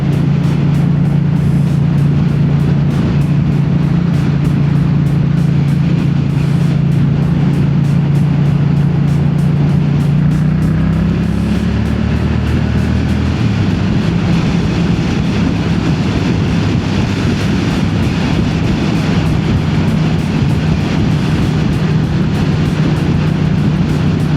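A Yamaha XSR motorcycle riding a mountain road, its engine humming loud and steady up close under heavy wind noise, with one clear pitch drop and rise mid-ride as it shifts gear.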